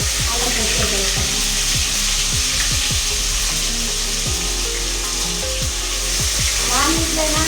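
Ginger paste sizzles in hot oil in a pan while cooking meal maker biryani with basmati rice, a steady loud frying hiss with repeated clicks of a spoon stirring throughout, no speech.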